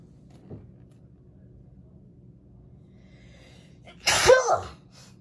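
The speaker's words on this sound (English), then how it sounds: "Sorry, I feel like sneezing." A single loud sneeze bursts out near the end, close up, after a few seconds of quiet room hum.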